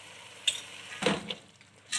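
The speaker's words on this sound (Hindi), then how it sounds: "चनों के साथ मसालों की अच्छी सी बुनाई करेंगे" Chickpeas being stirred and roasted with salt and whole coriander in a pot, a few brief scraping stirs and soft clinks over a faint sizzle, close and quiet, no talk.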